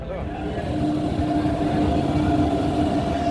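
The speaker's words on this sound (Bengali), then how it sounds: "অবশেষে মালদা টাউন স্টেশনে প্রবেশ করলো" The Kanchanjunga Express from Sealdah rolls into Malda Town station with a continuous, loud rumble and steady mechanical drone of wheels and carriages.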